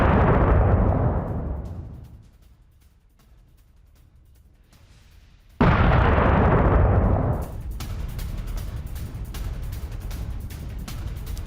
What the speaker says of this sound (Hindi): राजधानी कीव पर किंजल मिसाइल, बहुत ही ज्यादा विनाशक यह मिसाइल और इससे जिस अटैक को अंजाम दिया गया, यह देखिए आप